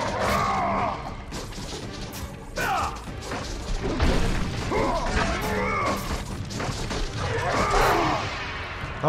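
Burning ball smashing into Kratos in God of War 2, heard as heavy game crashes and thuds amid dense clattering combat effects, fairly loud and busy throughout with no speech.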